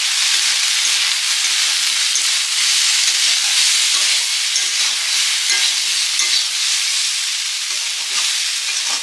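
Banana flower curry sizzles and fries steadily in a pan while being stirred, a loud, continuous crackle with scraping from the spoon and no talking.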